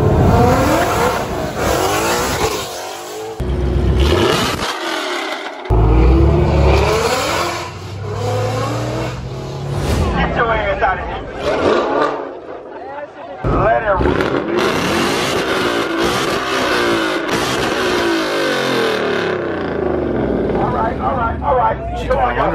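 A Whipple-supercharged Mustang engine roars loudly and revs in surges, with deep rumbling and whine, at a car meet while people talk nearby over the noise.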